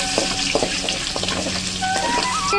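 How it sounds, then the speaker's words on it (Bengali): Dried red chillies and chopped ginger frying in hot oil, a bright close crackling sizzle with quick stirring clicks scattered through, steady and loud with no talking. "শুকনো লঙ্কা এবং আদা কুচি এটা আমি দিয়ে দেবো এই তেলের মধ্যে ভালো করে একটু নাড়িয়ে নেব"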